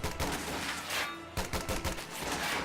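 Rapid gunfire and rifle volleys from a Company of Heroes 2 battle between Wehrmacht OKW and US and Soviet forces, with dense overlapping bursts and a brief lull before the shooting resumes.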